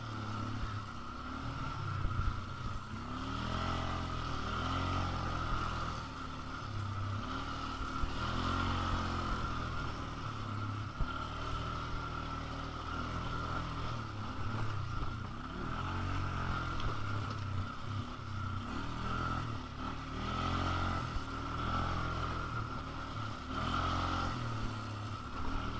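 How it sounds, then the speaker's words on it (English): An ATV engine roars continuously while riding forest trails, a loud steady motor drone with shifting revs throughout and no talking. "He rides his ATV through the forest, the powerful engine roaring as he navigates the trails."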